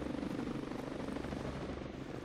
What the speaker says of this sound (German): Das ist kein normaler Heli. Ein guter Kampfhubschrauber, ja.